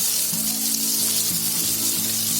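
Sliced onion dropped into hot oil with already-fried garlic for white sauce pasta, a steady, close, loud sizzle throughout with faint clinks of stirring.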